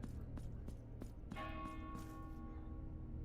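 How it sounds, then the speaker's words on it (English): A bell in the video game Blasphemous 2 strikes once and rings out with a long, shimmering decay over a steady low rumble of game ambience, with no talk. "So I do hear the bell going off"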